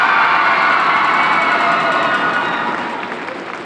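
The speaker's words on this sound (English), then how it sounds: "Round of applause for the fireplace and garland." Sustained clapping from a school audience at a high school holiday assembly, a dense, steady wash of applause with faint cheering that gradually thins and fades toward the end.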